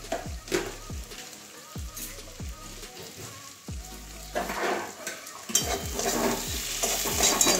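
Spice masala for a jackfruit and katla fish head curry is stir-fried in a pan, with a close sizzle and repeated rhythmic scrapes and clinks of a spoon against the pan, the frying growing louder toward the end.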